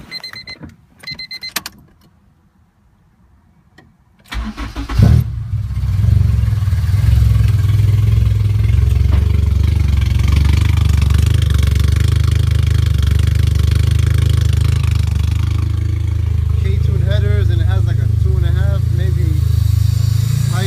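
After a quiet start with a few clicks, a K24 car engine starts and idles with a deep, loud exhaust rumble through a 3-inch straight pipe. A voice speaks over it.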